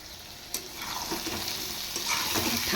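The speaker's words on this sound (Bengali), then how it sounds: "এবার আলু বেগুন সহ আমি আরেকটু ফ্রাই করে নেব।" Fish fries with new potato and eggplant in a pan while being stirred. A close, continuous sizzle carries scraping stirs and small spatters, growing slightly louder toward the end.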